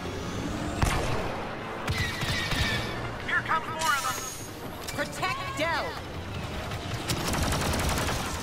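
Blaster gunfire in a Star Wars Battlefront 2 campaign battle: repeated sharp shots scattered throughout, mixed with laser-like whistles and effects, with a voice talking over parts of the fight.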